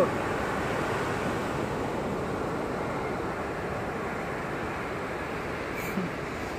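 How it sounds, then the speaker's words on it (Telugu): Sea waves roll onto a beach at Vasco, Goa, a soft continuous wash of surf with a faint rumble, steady and somewhat distant, without speech. "సముద్రపు అలల సౌండ్,"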